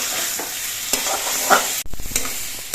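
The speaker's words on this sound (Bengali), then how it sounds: "এবার এর মধ্যে আলুগুলো দিয়ে দিচ্ছি আলু দিয়ে আর মশলা দিয়ে আরও কিছুক্ষণ কষিয়ে নিতে হবে" Potatoes sautéed with spices in hot oil for a vegetarian paneer curry, a continuous close sizzle with spatula scrapes and a brief pause before stirring resumes in quick knocks, no voices.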